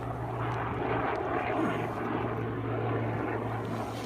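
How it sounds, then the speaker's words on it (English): A big, noisy helicopter flies by somewhere behind a boat near the water, its steady rotor and engine drone loud and continuous throughout. "there's a helicopter back there somewhere making a lot of noise"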